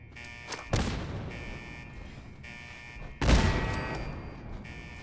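Two loud grenade blasts boom in Fallout 4, each with a sharp crack and a long rumbling tail, while a steady electronic hum from turrets runs between them.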